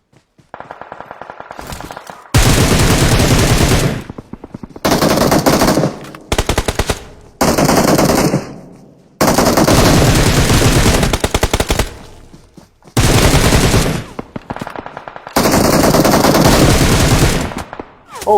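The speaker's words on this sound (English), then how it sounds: "Oh no, getting shot from behind!" Automatic gunfire in the mobile battle-royale game PUBG Mobile, loud sustained bursts of rapid shots separated by short silent gaps, repeating several times.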